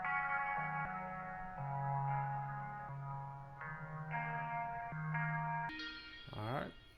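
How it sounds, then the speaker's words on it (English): A guitar treated with a Gross Beat effect at the very start of a song plays a series of stepping notes with echoing, modulated sustain, ending in a quick warbling pitch sweep and a brighter stuttered chord. "when it first starts, I wanted it to start with some gross beat."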